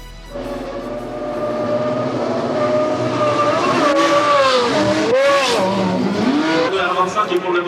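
A Renault R25 Formula 1 car with a V10 engine runs at a historic Grand Prix, its high, rising engine note swelling and shifting pitch as it passes, with a brief dip midway and a voice talking over the sound.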